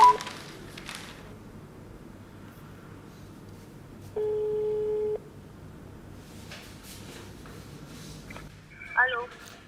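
A single steady telephone tone sounds for about a second mid-clip while an advertiser is being called, faint against a quiet room with soft background movement and a brief burst of other sound near the end.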